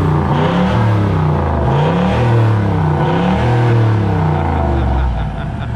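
A V8 car engine fitted with a large intercooler revs hard, its loud, steady roar rising and falling in pitch through repeated sweeps, close to the microphone with no talking.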